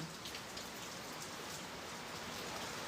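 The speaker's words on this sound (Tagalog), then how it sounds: "Grabe ulan na dito sa Manila." Dense, steady rain pours down in Manila in a continuous hiss, heavy and unbroken, with no voices.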